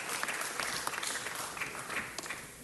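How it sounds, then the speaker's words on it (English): Applause fills a city council meeting, a steady wash of clapping from a crowd that goes on for the whole stretch and begins to thin toward the end. "Give them one more round of applause."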